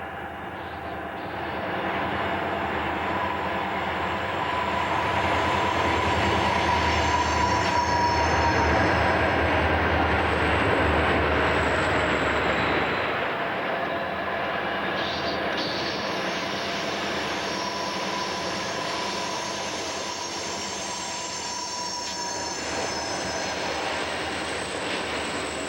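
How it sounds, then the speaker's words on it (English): An eastbound empty vehicle carrier freight train rolls past on a steep mountain mainline near Minturn in Red Canyon, a loud, sustained rumble of wheels and cars with squealing flanges, swelling and then easing slightly as it passes. "Here we encounter an eastbound empty vehicle carrier train heading for Minturn and its crew change point."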